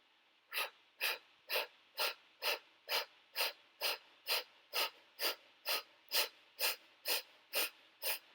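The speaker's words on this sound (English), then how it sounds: "only focusing on your exhale as you blow out of your mouth like you're blowing out candles on a cake" Fifteen forceful breaths blown out through the mouth, like blowing out birthday candles, during a yoga breathing exercise; sharp, even bursts spaced about half a second apart, close and alone with no talking.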